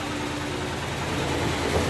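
Continuous droning mechanical hum with a low rhythmic throb, a Samsung WA65T4262GG 6.5 kg fully automatic washing machine vibrating through its spin cycle.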